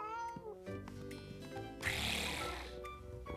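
A voice imitates a cat, with drawn-out meowing and snorting sounds, close and fairly soft.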